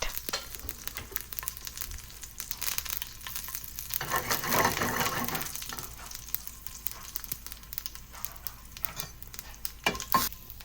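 Crushed garlic cloves frying in a pot for a Karnataka sambar or rasam, a steady close sizzle with occasional stirring scrapes and a louder burst of frying partway through.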